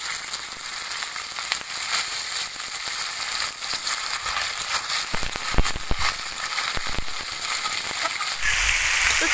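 Raw chicken hitting hot oil with ginger and garlic for a village-style stew, a loud steady sizzle with crackling bursts and stirring clatter, close and without speech.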